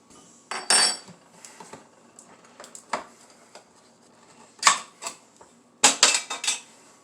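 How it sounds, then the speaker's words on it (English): Metal cutlery and dishes clink and rattle in a few separate bursts of sharp jangling, close by, with quiet pauses in between while a smaller spoon is fetched; no voices. "Let me get a smaller spoon."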